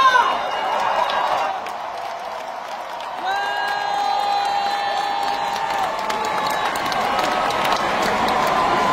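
Crowd applause and cheering at a Democratic Party of Korea leadership convention as a party leadership candidate is introduced, a steady broad roar filling the hall for the full stretch, with some voices mixed in.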